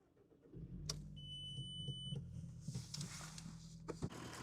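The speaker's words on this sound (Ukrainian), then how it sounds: "А тепер давайте запустимо двигун нашого легендарного без перебільшення автомобіля" A Volkswagen Golf IV's 1.4-litre inline-four engine cranks and starts, settling into a steady idle, with warning chimes beeping and a few clicks nearby.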